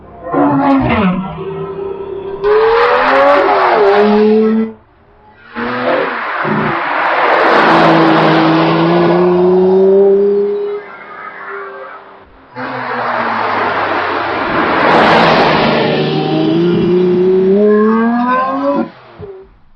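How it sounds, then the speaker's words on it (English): A Lamborghini Reventon supercar on the road, its engine roaring loud and close in three long pulls with rising pitch, short breaks between them like gear changes. "when you are driving along the road in your Lamborghini reventon"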